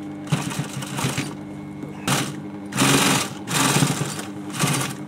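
Sewing machine re-sewing an upholstered cushion cover, whirring in several close, loud runs separated by brief pauses.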